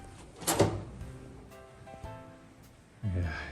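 Doors opened inside a Mister Rogers' Neighborhood attraction in Florida, with a scuffing clack near the start, a quieter bump midway and another low thud at the end, all in a quiet indoor space.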